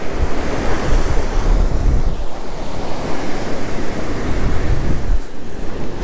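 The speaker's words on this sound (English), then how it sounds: "So windy." Strong wind buffets the microphone on a beach during surf fishing, with crashing waves and surf roaring continuously underneath, loud and close throughout.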